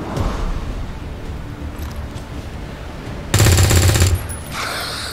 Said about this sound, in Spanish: El disparo no ha dado.